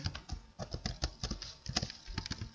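Rapid, uneven clicking of computer keyboard keys while HTML code is typed into Notepad, close and fairly quiet, with irregular bursts of keystrokes and no talking.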